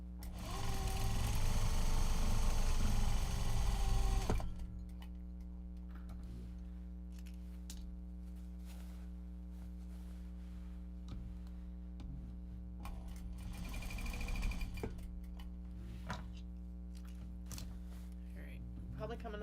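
Sewing machine stitching Japanese fabric project bags, a loud steady whirring run for the first few seconds, then the motor stops and soft intermittent handling noises follow under a low steady hum, with quiet talk in the room.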